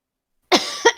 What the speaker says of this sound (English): if you happen to hear me cough